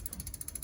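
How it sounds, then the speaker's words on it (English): Freewheel ratchet clicking in a rapid, even run of ticks as the rear wheel of a Bunch Bike cargo bike spins, close up and alone. "And spin the wheel."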